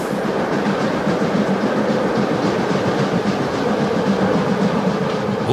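A DB class 038 steam locomotive, a Prussian P8, stands at Freudenstadt station with a passenger train, giving a steady, loud rumbling wash of railway noise with a faint rhythmic pulse throughout.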